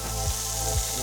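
Peppers frying in garlic-perfumed oil, a steady close sizzle with two soft low thumps as the pan or food shifts, no voices.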